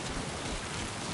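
Steady rain falling in Death Stranding II, a dense even hiss of drops across the whole short stretch, continuous and fairly loud with no voices over it.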